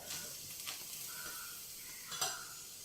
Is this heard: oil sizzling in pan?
yes